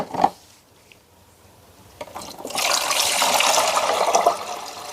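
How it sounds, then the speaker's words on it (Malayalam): Water pours steadily into a bowl for a few seconds after a brief knock and quiet pause, a close, rushing splash that fills most of the clip. "കുറച്ച് വെള്ളം ഞാൻ ആദ്യം ഇതിലേക്ക് ഞാൻ ഒഴിച്ചു വെച്ചു"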